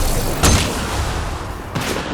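Gunfire in the sci-fi video game Mass Effect: Andromeda during a firefight: two sharp, loud blasts about a second apart, each with a booming tail over a continuous rumbling background.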